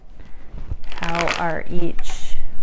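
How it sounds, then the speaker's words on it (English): Several decks of tarot-style cards being shuffled, with a riffling burst of papery flutter that rises and fades near the middle, close and fairly loud, against a background of voice-like tones. "I'm going to shuffle 4 decks."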